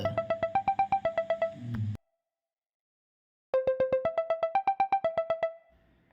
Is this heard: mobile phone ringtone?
yes